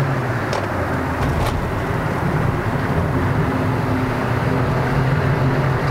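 Steady engine and road roar inside a Perodua Myvi 1.5L D-CVT on Eibach Sport Springs and AD08R tires pulling hard on a mountain road, a constant loud drone with a few faint clicks and no voices.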